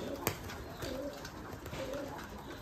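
Giribaj pigeons coo softly in repeated low rolling phrases, several calls close together over a noisy background.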